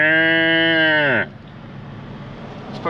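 A calf lets out a single loud, drawn-out moo lasting about a second, heard from a passing vehicle during road driving; afterwards only a low engine and road hum remains.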